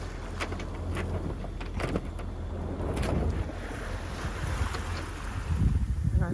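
Sailboat at sea just after sunrise, rolling in a northeast swell with wet decks, the wash of waves against the hull and gusty wind buffeting the microphone, punctuated by sharp splashes and creaks.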